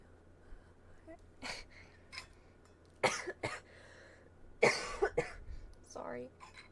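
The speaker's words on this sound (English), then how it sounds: "I have a bit of a cough too." Several short, sharp coughs and throat-clearing bursts break out in clusters, fairly close and moderately loud over a quiet background, from someone streaming VALORANT live.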